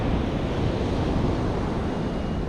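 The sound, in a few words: waves washing up on Easington beach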